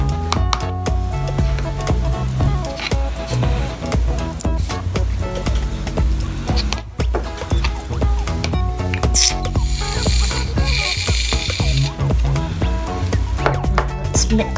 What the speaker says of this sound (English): Now, I'm going to put in the shaving cream.